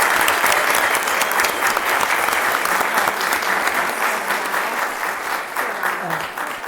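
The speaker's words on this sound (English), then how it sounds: "Please give Rhonda a round of applause" Sustained applause for a staff member at a city council meeting, steady broadband clapping lasting several seconds and easing slightly toward the end, with faint voices underneath.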